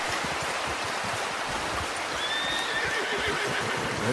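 A horse in a video game's open country, a whinny rising over steady, dense ambience of rushing water or rain, with soft hoof clops underneath.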